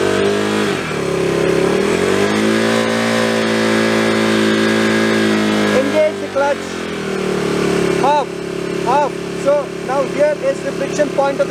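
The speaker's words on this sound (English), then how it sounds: "First, crank your motorcycle up. First gear." Motorcycle engine held at steady high revs before a first-gear launch, a loud continuous drone that dips and rises, then drops to choppy blips of throttle, with someone talking over it.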